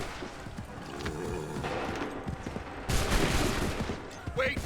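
Rifle volleys fired on command in a war scene, rapid crackling bursts of gunfire in quick succession with a louder burst partway through, voices faintly present.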